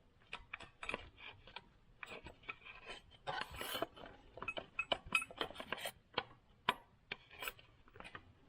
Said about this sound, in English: a big screwdriver works a little better